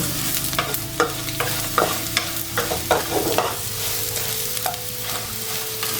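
Pickled mustard greens, tofu and shiitake mushrooms stir-fry in a pan, a steady sizzle broken by repeated scraping strokes of a spatula, close and fairly loud, with no voices.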